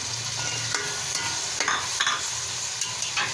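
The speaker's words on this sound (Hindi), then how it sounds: "अब इसमें जा रहे हैं टमाटर, हरी मिर्चें" Tomatoes and green chilies frying in a pan for matar pulao, a continuous close sizzle with scattered clinks and scrapes of stirring.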